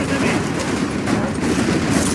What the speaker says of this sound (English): We found the machine gun!